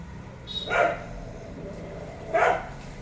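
Two dogs scuffle, one black-and-white, with a local dog: two short bursts of growling barks and snarls about two seconds apart, fairly close over a low background hum, no talking.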